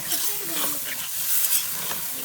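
Chicken pieces with onion, chili and spices frying and being stirred in a pan as a little water goes in, a steady close sizzle with scraping stir sounds and no talk.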